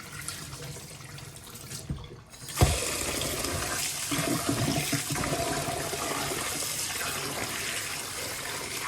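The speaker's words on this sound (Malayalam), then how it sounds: "ബസുമതി റൈസ് എടുത്തൊരു വാഷ് ചെയ്ത് കുറച്ച് നേരം സോക്ക് ചെയ്യാൻ വെക്കാം വെള്ളത്തിൽ" Basmati rice washed under running water: a quiet stretch, then a sudden thump as a strong, steady splashing flow starts and continues close by, with faint mechanical knocks beneath.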